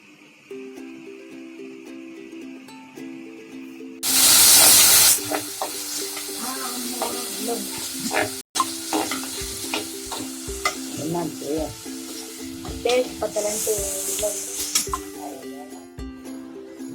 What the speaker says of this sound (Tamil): பச்சை வாசனை போற அளவுக்கு நல்லா வதக்குங்க